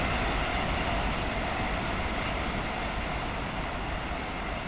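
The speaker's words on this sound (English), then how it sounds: "You can hear the rail singing even now." Rails singing under a GWR Class 802 intercity train in a train simulator game, a loud continuous rumbling roar of wheels on track with a steady high metallic ring, no voices.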